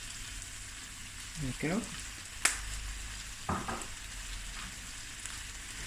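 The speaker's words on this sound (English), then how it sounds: "now I'm going to add my last ingredient, and that's just about 2 teaspoons of dark soy sauce" Dark soy sauce hits a hot pan of frying sausage and mash ingredients with a soft, steady sizzle, broken by a few sharp scraping stirs and clinks; a voice speaks briefly.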